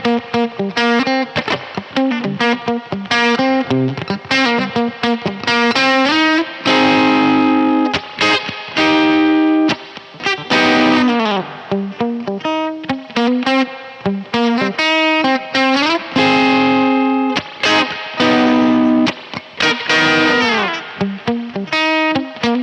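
An electric guitar played through a fuzz preamp gives a warm, raspy vintage distortion. Chords and riffs ring out continuously and loud, with no talking.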